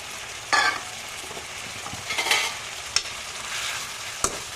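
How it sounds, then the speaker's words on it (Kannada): Tamarind water poured into a pan of frying onions and spice powder for tamarind chitranna, giving a faint sizzle with a few soft stirring scrapes and brief clinks, no voices. "ನಂತರ ಹುಣಸೆಹಣ್ಣು ನೀರನ್ನು ಹಾಕೋಣ"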